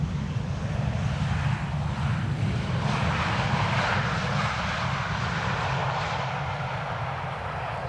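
A Boeing 737 airliner on approach to the center runway at Amsterdam Schiphol, a loud sustained roar of jet engines with a broad rumbling wash that swells and slowly fades, heard alone without talk.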